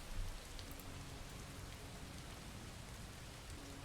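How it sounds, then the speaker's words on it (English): Steady rain falls in the video game Far From Noise, a dense, even wash of drops holding at a constant level throughout with no voices. "But is anything more mesmerizing than the transformation brought by the rain?"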